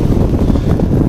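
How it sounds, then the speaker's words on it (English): Wind rushing past a light aircraft gliding after engine failure, a loud, low, steady roar with no engine tone. "All I can hear is wind noise."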